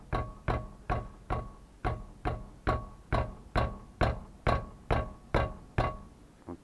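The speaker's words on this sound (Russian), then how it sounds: "по этим шишкам очень сильно начинает брякать тормозной суппорт" A loose brake caliper on a jacked-up Toyota is knocked by hand, giving about a dozen evenly spaced, sharp metallic clunks, close and clear with no talking.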